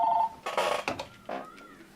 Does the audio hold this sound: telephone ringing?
yes